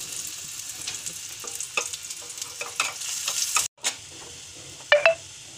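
Onions fry and sizzle in a pan for a spiced kadhi curry, with a steady hiss and repeated scraping stirs of a spoon, plus a few sharper clinks near the end; no one speaks.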